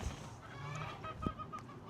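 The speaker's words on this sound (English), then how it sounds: "There are some roosters, but there's quite a few hens in there." Chickens on a farm flock of roughly 180 to 200 birds, mostly hens with some roosters, give off a murmur of clucks and a few sharp calls, moderately near and fairly quiet across two seconds.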